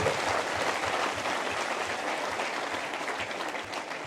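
Applause for Meena folk artists at a Rajasthani cultural talk event, a dense steady wash of clapping from a crowd, fairly loud and continuous throughout.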